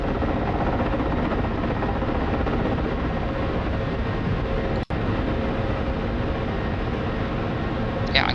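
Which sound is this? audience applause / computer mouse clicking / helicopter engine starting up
helicopter engine starting up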